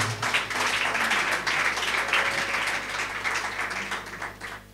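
Church congregation applauding, sustained loud clapping from many hands that slowly thins toward the end, with no voices over it.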